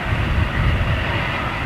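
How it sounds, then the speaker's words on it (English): An Air Orange ATR turboprop at Manchester Airport gives off a steady, loud engine roar with a low rumble and broadband hiss, held continuously from start to finish with no voices. "we love the turboprops, just like this Orany ATR"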